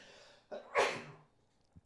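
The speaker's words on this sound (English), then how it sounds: "Sneezing in the middle of the video." A single close sneeze with a short inhale before it, followed by quiet, in an otherwise still room.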